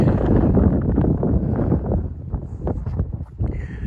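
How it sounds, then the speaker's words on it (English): Blustery outdoor wind in Mokpo buffets the microphone with a loud, continuous low rumble that eases slightly toward the end, with no speech. "It's just a bit of wind."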